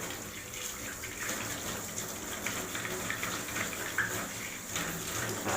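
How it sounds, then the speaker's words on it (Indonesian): Hands rinsed under a running tap, a steady close wash of splashing water with no pauses and no voices. "bilas dengan air mengalir."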